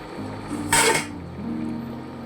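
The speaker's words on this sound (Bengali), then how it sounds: "এবার ঢাকনা খুলে দেখে নেব তরকারিটা" A metal lid is lifted off a pot of vegetarian poppy-seed bora curry, giving one brief clattering scrape against a steady low hum from the stove.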